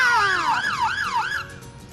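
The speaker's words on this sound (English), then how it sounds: "it's got the lights and the noise that it makes from the sirens" A fire engine's siren wails loudly and close, its pitch sweeping up and down in a rapid repeating yelp for about two seconds before cutting off.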